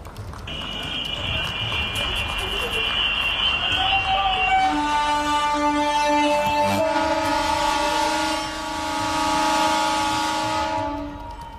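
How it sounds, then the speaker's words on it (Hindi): An Ujjain–Indore MEMU train being flagged off at a railway station inaugural ceremony: a high, steady alarm-like tone gives way to a loud, sustained multi-tone train horn blast that holds for several seconds, dips briefly, then sounds again before fading. "उज्जैन इंदौर व इंदौर उज्जैन मेमू ट्रेन को हरी झंडी दिखाकर उनका शुभारंभ करने की कृपा करें।"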